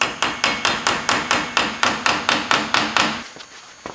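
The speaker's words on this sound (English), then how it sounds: "Tapping on the CV axle." A hammer taps steadily on the CV axle of a 2002 Chevy dually pickup during front wheel bearing replacement, roughly a dozen sharp, evenly timed metallic strikes, close and loud, with no voices.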